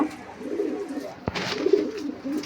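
Pigeons coo in low, rolling murmurs throughout, close by, with a brief sharp knock partway through.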